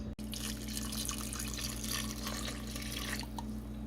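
Water pours steadily from a cup into pumpkin bread batter with a continuous splashing rush, close and fairly loud, tapering slightly near the end.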